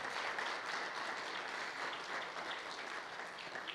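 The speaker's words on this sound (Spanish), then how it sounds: "Denle un aplauso al Señor." Church congregation applauding at a Spanish-language sermon, a dense, steady roar of many hands clapping that holds at even loudness for the whole stretch, with no voices standing out above it.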